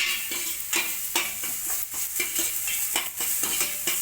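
Grated carrot frying in ghee, stirred in a pan: a steady sizzle broken by rhythmic scraping strokes of a spoon, close and clear, with no one talking.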